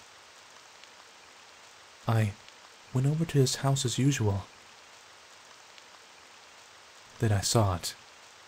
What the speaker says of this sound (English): It was raining that day.